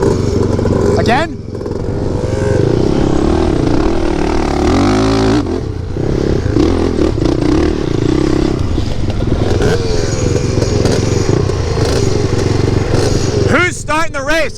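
A hybrid race quad revving loudly through a drag race run at the Little Sahara dunes, its engine roaring continuously near the listener for the whole stretch, with people talking over it.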